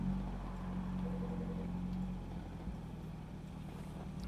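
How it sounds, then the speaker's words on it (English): A Citroen DS21 engine idles steadily with a low, even hum, recorded close but fairly quietly, with no talking. "this car, it has a nice idle"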